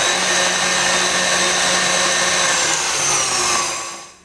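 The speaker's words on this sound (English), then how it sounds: "going to add the chocolate mix and keep on whisking it" Chocolate mix being whisked into already-whipped cream, most likely with an electric mixer: a steady, loud motor whir that runs without a break for about four seconds, then fades out as it stops.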